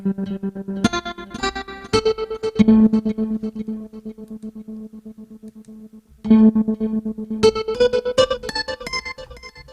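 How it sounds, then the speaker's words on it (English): A synth from Presence XT plays a pulsing, choppy modulated tone, notes rhythmically gated with echo and chorus, pausing briefly before resuming, loud and clear. "You can add a gator to it. like a certain mod. It's a modulation sound."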